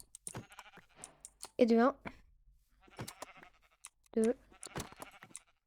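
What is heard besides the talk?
sheep bleating in Minecraft video game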